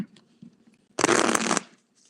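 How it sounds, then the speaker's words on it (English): A deck of tarot cards is riffled in a single quick burst of dense, crisp flapping lasting about half a second, close up, between faint soft handling sounds. "Sometimes I shuffle backwards because the cards do this."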